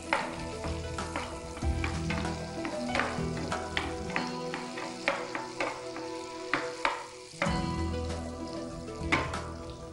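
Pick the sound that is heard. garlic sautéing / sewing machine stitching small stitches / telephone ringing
garlic sautéing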